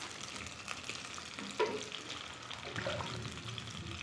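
Country chicken meat frying in hot oil in a village kitchen, a steady dense sizzle with a brief louder spatter partway through, close and continuous with no talking.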